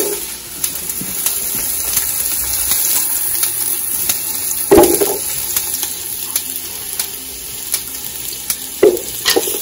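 Chopped pepperoni, garlic cloves and onion frying in a pan over a medium flame, a steady close sizzle with scattered pops and a few louder scraping stirs, no talking.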